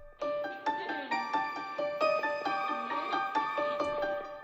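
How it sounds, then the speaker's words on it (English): Soft plucked synth melody processed with cassette saturation and reverb, a gentle repeating pattern of bright tonal notes with warm, slightly smeared tails, played alone at low volume. "I put on a cassette and a reverb, and I'm doing just a little bit of each"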